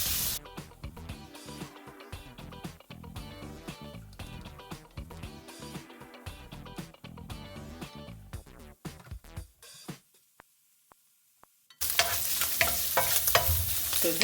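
Ham frying in a pan with cabbage, a crackling sizzle with busy stirring and tossing throughout, briefly going quiet before a louder burst of hissing near the end.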